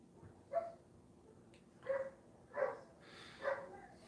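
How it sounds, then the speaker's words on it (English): A dog barks four times at irregular intervals, somewhat distant and moderately loud, with a quiet background and no talking. "You hear a dog barking."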